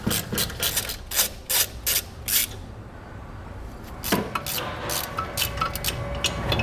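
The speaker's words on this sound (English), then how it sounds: "So we'll grab a 12mm socket and we'll unthread those bolts." A 12mm socket on a ratchet unthreads the bolts of a factory jounce stop on a vehicle's rear suspension. Close, quick bursts of ratchet clicking pause briefly, then resume in faster runs.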